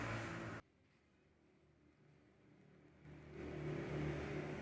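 A car's electric power window motor whirs steadily, drops sharply into a quiet lull, then builds back to a louder hum, heard close with no talk.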